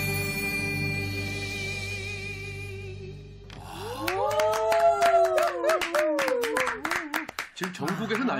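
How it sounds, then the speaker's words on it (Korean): Hands clap in a quick rhythmic burst during a lively singing-class broadcast, the sharp claps mixed with voices talking and calling out over fading music. "짝짝짝짝 뭐 박수치고"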